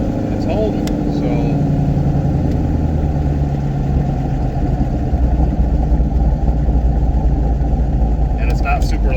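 A car fitted with a Holley Terminator X rumbles along in second gear, its exhaust a steady, low, even drone throughout, with a voice speaking over it.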